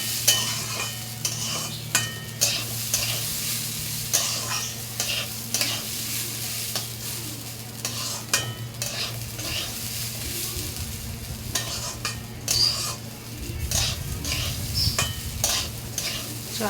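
Washed rice is stirred in a hot pan in a long run of rhythmic, close scraping strokes over a low, steady sizzle, with a brief louder rustle near the end.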